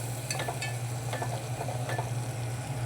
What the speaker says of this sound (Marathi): व्यवस्थित ढवळून घ्या, एक मिक्स व्हायला पाहिजे हे व्यवस्थित